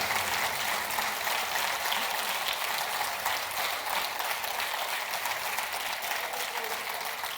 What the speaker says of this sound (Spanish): ¿Cuántos aplauden a Cristo fuertemente?